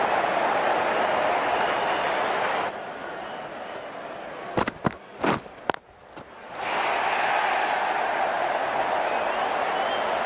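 Crowd applause in the Cricket 19 video game after a four-run boundary in an India versus Pakistan Asia Cup match, a steady broad roar that breaks off midway for a few sharp thuds before swelling back up.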